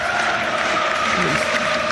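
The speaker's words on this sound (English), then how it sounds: "You can hear the crowd getting behind Sturm Graz" Stadium crowd at a Sturm Graz versus Rangers Europa League match, a steady roar of cheering and applause carrying under a radio commentator's voice.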